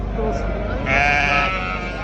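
At a livestock bazaar in Turkestan, a single drawn-out sheep bleat rises briefly over a busy background murmur of voices and market noise.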